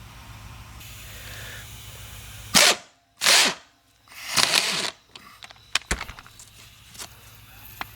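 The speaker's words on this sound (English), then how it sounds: "Gotta love impact wrenches." Impact wrench working a bolt inside a 1986 Mustang GT during interior strip for floor pan replacement: three loud rattling bursts in quick succession, then scattered sharp clicks and knocks in a quiet space.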